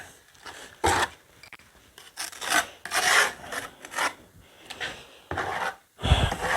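Rasping and rubbing strokes on a round birch shovel handle being shaped into a simple hammer-like tool by a professional stove builder, a series of close, uneven scraping bursts with short pauses between them.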